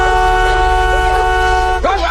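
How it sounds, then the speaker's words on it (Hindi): A car horn blares in one long, steady held honk, loud and close, cutting off sharply near the end. "डर के मारे लड़की जल्दी से कार का हॉर्न बजाती है"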